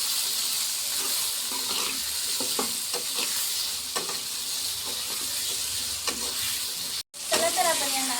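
Potatoes with salt and turmeric fry in a pan while being stirred, a steady sizzle under scattered scraping clicks of the spoon, with a brief cut near the end before the frying resumes.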